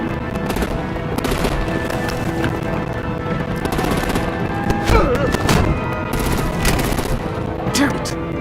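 Batman video game battle with dense, loud gunfire and booming artillery blasts that run continuously beneath sporadic shouted voices.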